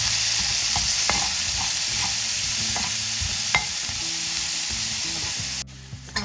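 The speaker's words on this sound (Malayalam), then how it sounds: "സവാള നന്നായിട്ട് വാട്ടിയെടുക്കുക." Sliced onion sautéing in a frying pan for a Kerala dried prawn fry, with a steady low sizzle, occasional stirring clicks and scrapes from a spoon, close and continuous, no talking.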